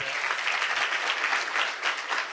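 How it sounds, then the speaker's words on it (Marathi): An audience at a bhajan gathering giving hearty applause, dense continuous clapping from many people, loud and sustained with no voices over it. "खरोखर एकदा जोरदार टाळ्या द्या"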